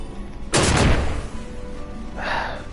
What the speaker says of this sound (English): Always triggering explosions.